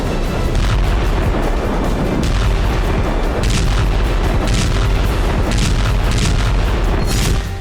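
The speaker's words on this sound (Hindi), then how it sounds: "अब तक रूस की मिसाइलें यूक्रेन के शहरों पर बारूद बरसा रही थी" Missile strikes on cities pound out loud, dense, continuous blasts and rumbling booms, heavy low-end thuds overlapping one another throughout without a break.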